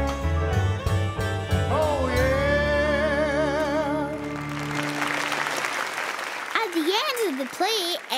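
A stage play audience breaks into clapping, the dense broadband patter swelling in the second half under a children's cartoon soundtrack of music and sung voices.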